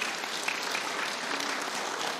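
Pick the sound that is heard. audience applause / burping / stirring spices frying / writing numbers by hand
audience applause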